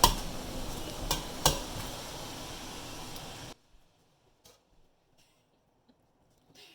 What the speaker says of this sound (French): il ne manque plus qu'à prendre nos pâtes qui ont égoutté et à les ajouter à l'intérieur de la préparation et de brasser